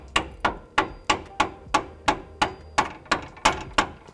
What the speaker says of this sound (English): just enough to start tapping this to bring that pivot bolt forward